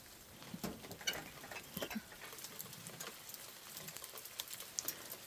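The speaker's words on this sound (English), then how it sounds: "The rain is too heavy now." Heavy rain pattering during a storm, a dense, steady crackle of drops with scattered sharper taps, fairly quiet and continuous throughout with no voices.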